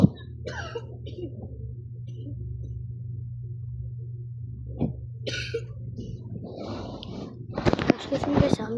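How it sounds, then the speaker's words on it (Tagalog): A person coughs a few short times close to the mic, each burst sharp and brief, with low background hum and some movement noise in between. "Umubo kasi ako ngayon, pero huwag mo napansinin yun."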